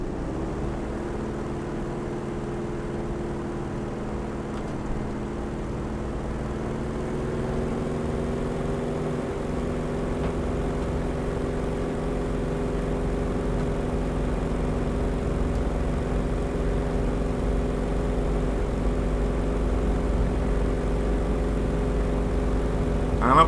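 Vought Corsair FG-1D piston propeller engine in Microsoft Flight Simulator roaring steadily through a takeoff run, its droning harmonics rising in pitch and growing louder as power builds, with no talking over it.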